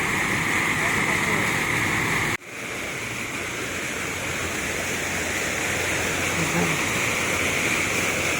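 A water fountain splashing in Arroceros Forest Park in Manila, a loud steady rushing spray heard close, briefly cut by a dull knock before the wash of water resumes.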